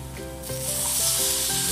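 Broad beans sizzle and fry steadily in a pan with a dense, continuous hiss that swells slightly louder partway through, with faint stirring scrapes underneath and no talking.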